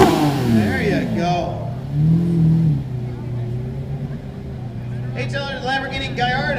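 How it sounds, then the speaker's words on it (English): A Lamborghini Gallardo at an exotic car festival awards event rolls up with its engine revving and rising in pitch, heard under ongoing announcer talk and crowd noise. "Lamborghini Gallardo coming up next, a Platinum Award winner"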